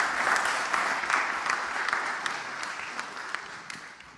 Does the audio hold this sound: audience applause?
yes